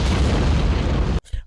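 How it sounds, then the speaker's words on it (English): Big-screen explosions from the Marvel film Black Widow: a loud, sustained booming roar with dense rumble that suddenly cuts off, leaving a short, fainter rumbling tail. "oh boy, did those explosions wake you up."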